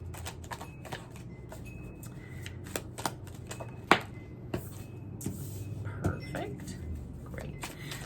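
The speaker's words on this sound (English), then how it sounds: "I'm going to shuffle these first." Tarot cards shuffled by hand, a run of soft riffling clicks and flicks with a few sharper snaps, close and quiet, with faint speech in the background.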